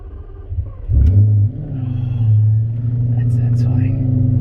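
A Lamborghini engine starts with a loud burst of low rumble, then settles into a steady, deep revving drone heard from inside the car, close and continuous throughout.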